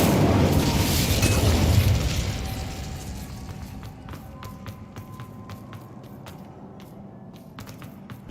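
An Incendio fire spell erupts loudly in Hogwarts Legacy, a roaring burst that fades over a couple of seconds into quieter rumble with light, steady taps of footsteps running underneath.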